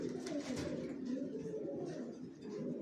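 Young racing pigeons coo softly and repeatedly at close range, a low, steady murmur of bird calls with no one talking.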